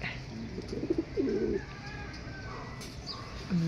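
A pigeon coos close by near a loft roof during a 157 km racing pigeon fun race, a few soft low coos against steady outdoor background noise.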